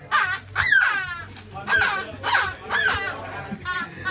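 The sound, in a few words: bird cawing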